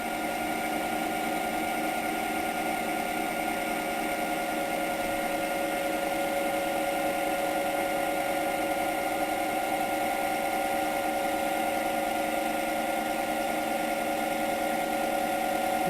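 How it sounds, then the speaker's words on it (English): Electric motor on a chopper, its battery pack at the end of its charge, whirring steadily and alone at close range with a sustained tonal hum; a clear slowdown is not obvious. "You can even hear the motor slowing down as the whole pack is at the end."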